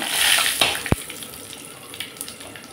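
White cumin and a bay leaf hit hot oil left from frying fish, giving a bright, close hiss that starts loud and fades into a steady sizzle, with a sharp knock partway through.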